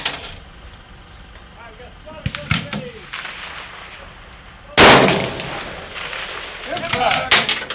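Rifle shots at a PRS Pro Series precision shooting match ring out as a few sharp, loud reports, one especially strong blast midway, with outdoor noise and faint voices between them.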